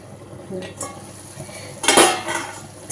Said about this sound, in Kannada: ಎರಡು ನಿಮಿಷ ಇದನ್ನು ಮುಚ್ಚಿಟ್ಬಿಡ್ತೀನಿ